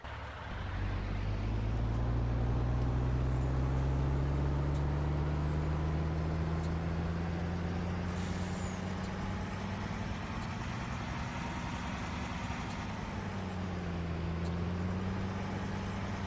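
A truck in Farming Simulator 19 drives with a steady, loud engine drone whose pitch climbs slowly and then dips, with faint ticking overhead and no voices.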